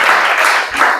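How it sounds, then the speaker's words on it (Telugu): Children in a Sunday school class clap together in a dense, continuous patter of applause that stays loud and close throughout, with a voice faintly mixed in. "క్లాప్స్ కొడదామా?"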